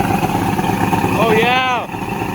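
A small outboard boat motor sputters and revs up briefly as it starts, its pitch rising then cutting off, over steady background noise.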